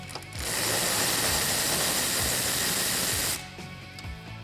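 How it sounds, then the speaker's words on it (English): A ratchet with a U-joint loosening a headlight bolt on a 2009-2018 RAM 1500: a steady, close whirring clicking run lasting about three seconds, then a few softer clicks as it stops. "I'm gonna use the U-joint. You could just as easily get to this with a 10mm wrench."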